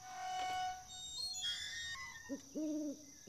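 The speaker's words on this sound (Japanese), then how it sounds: "ああ、またフクロウだ。" An owl in the horror video game Yuppie Psycho gives a few soft, low, wavering hoots near the end, over the game's quiet ambient tones and chimes.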